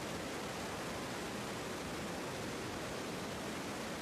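Cascading river water rushes from a spring-fed karst conduit in the WWF oasis at Morigerati, Campania, Italy, a steady, even broadband roar with no breaks or other sounds.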